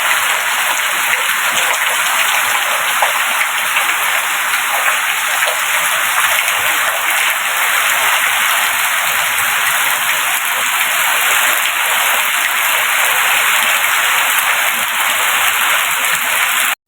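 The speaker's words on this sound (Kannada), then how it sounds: "ಜೋರು ಗಾಳಿ ಬರ್ತಾ ಉಂಟು, ಗಾಳಿ ಮಳೆ" Heavy rain driven by strong wind pours down outdoors as a dense, steady, loud wash of noise that holds unbroken throughout, with no voices.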